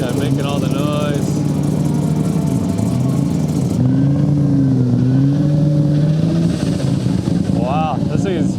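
A time attack race car sits on quick jacks with no wheels in the Tsukuba paddock, its engine revving loudly up and down in close, sustained surges while people talk nearby.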